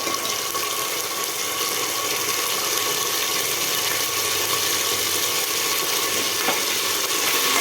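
Ginger garlic paste fries in a hot pan for rice pulao, giving a steady, even sizzle throughout with a faint scrape near the end and no talking.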